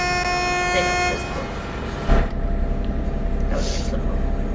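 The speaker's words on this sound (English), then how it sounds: "That was an excellent horn." Locomotive horn blasts a long, loud sustained tone around a stationary train, then cuts off, followed by a brief clunk and steady rumbling background noise, with voices talking nearby.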